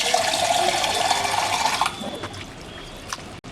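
Goat meat from a large goat being washed in water at home in a kitchen, with a steady loud rush of running, splashing water that drops off partway and ends with a few softer trickles and drips.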